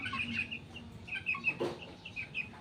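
Native chickens cluck and chatter near the listener in a farmyard, a mix of short clucks and higher calls running steadily for a few seconds with no talking.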